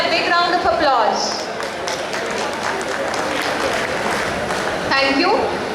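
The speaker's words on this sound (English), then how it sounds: "Please, first year and second year students, give them a big round of applause." First- and second-year students give a big round of applause to returning alumni at a college alumni meet, a dense wash of clapping from a large crowd, with a voice speaking at the start and again near the end.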